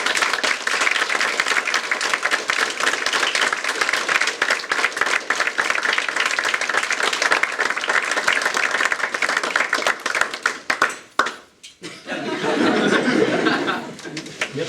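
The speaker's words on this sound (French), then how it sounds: "J'aimerais qu'on l'applaudisse tous maintenant." A theatre audience at an amateur drama contest gives sustained applause, dense clapping that fades out near the end before a brief burst of chuckling and noise.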